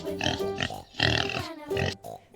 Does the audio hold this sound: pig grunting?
yes